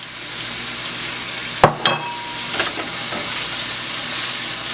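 Bell peppers hit a hot pan of sautéing onions for a chicken stir fry, a steady bright sizzle with a couple of sharp clatters as they drop in.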